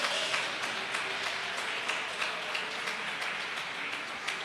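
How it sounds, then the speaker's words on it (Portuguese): Church congregation applauding together during an evening worship service, a steady dense wash of clapping that holds even throughout, moderately loud with no voices on top. "aplauda o Senhor nesta noite"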